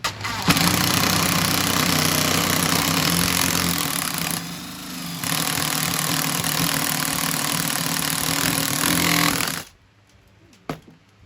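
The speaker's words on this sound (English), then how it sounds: "The Forstner bead was barely doing any work, was doing very little progress, and in the process it was overheating our motor on our drill press." Drill press boring into a laboratory tube with a Forstner bit, a loud, continuous grinding motor whine sustained for nearly ten seconds with a brief dip midway, then stopping abruptly, leaving quiet and a faint knock.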